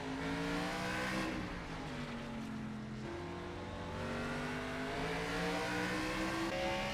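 Race car engine in the NASCAR 25 video game on a road course, revving steadily through a corner with rising and falling pitch as gears change, loud and continuous with no talking.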